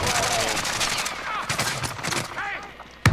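Gunfire in Call of Duty: Modern Warfare cracks in a fast burst of shots, with a sharp close report at the end, while players talk over it.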